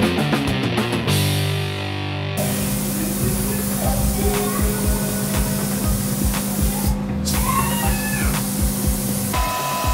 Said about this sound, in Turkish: Şimdi ikinci kat boyamı atıyorum